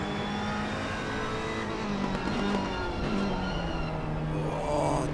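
GT3 race cars at Spa in a racing game, a steady engine drone as a car coasts and sheds speed into a braking zone, with a faint rising rev near the end and no voices.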